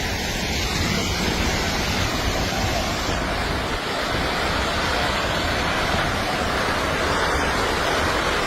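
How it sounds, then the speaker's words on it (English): A landslide in Meghalaya, India, gives off a loud, continuous roar like a raging river, a dense rushing wash that holds steady without a break, with no voices. "The sound of this landslide is so intense that it reminds me of a raging river."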